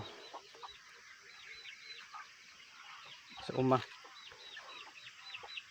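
Chickens cluck faintly in the background with a sharp louder squawk midway, while a person speaks briefly nearby.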